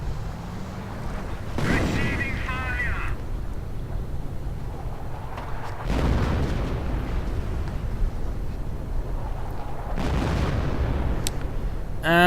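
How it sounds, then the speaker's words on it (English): Howitzer artillery bombardment in a strategy video game: three heavy booming blasts a few seconds apart, each with a rumbling decay, over a continuous battle din while a commentator talks. "the artillery, in a magnificent display of firepower, hits absolutely nothing"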